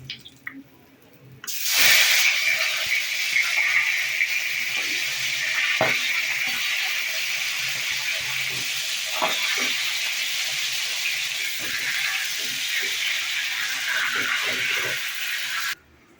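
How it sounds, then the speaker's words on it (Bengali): A rohu fish head goes into hot oil in a wok and bursts into a loud, continuous frying hiss with intermittent crackles and spits, close by and steady until it stops abruptly at the end. "এবার মাথাটা ভাজবো।"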